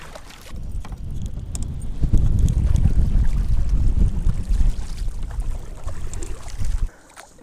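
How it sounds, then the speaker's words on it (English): Strong wind buffets a lake during a fishing trip, a loud low-pitched gusty roar against the microphone that swells through the middle and drops off abruptly near the end. "It is quite windy"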